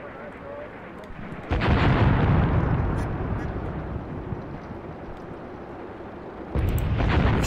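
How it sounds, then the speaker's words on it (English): Artillery barrages from the Graviteam Tactics: Mius Front war game, with loud broadband booms at about 1.5 and 6.5 seconds over a continuous rumbling battlefield roar. "still calling in massive artillery, which must, must be all the way over here at the church area"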